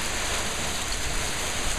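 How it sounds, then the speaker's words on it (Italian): Heavy storm rain pouring down in Corsico during a tornado, a dense, steady roaring hiss with no pauses, loud and close for the whole short stretch. "piove con una tale intensità che nessun tergicristallo è in grado di farti"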